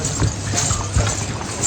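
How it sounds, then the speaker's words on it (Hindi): Horse hooves clip-clop on the route to the Vaishno Devi shrine, two or three distinct thuds close by over a steady background of wind and crowd noise. "हम बस अपने घोड़े पे बैठ गए हैं माता रानी के द्वार पे जाने के लिए।"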